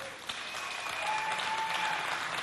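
Audience applause at a Chad Republic anniversary celebration show, a dense, steady burst of clapping that swells slightly and holds, no talking over it.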